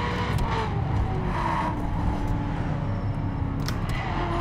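An Aston Martin in The Crew on Xbox One, driven with a steering wheel, runs at a steady engine drone with tyre noise and brief squeals, loud and continuous with no talk.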